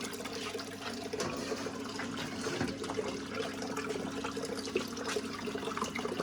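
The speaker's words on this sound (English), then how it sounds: "a constant flow of water coming in" A pump feeds a constant flow of water through a hose into a homemade miller table used for gold prospecting, a steady, even rush of running water with no pauses.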